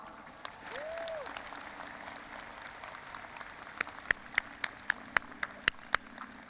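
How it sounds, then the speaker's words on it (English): Applause from the crowd at a university commencement ceremony at Berkeley, a soft, distant clatter of clapping that stays fairly quiet, with a few sharper individual claps standing out near the end. "Let's give them a warm round of applause."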